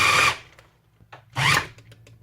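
Food processor grinding cauliflower into rice in two short loud bursts, each under half a second, with quiet gaps and small clatters between them.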